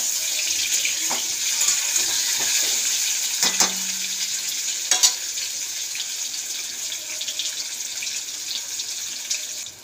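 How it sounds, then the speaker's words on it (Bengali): Sliced potatoes fry lightly in oil with a continuous bright hiss, close and even, with a few soft clicks and knocks from the pan. "তো আলুগুলো হালকা হালকা করে ভেজে রাখি"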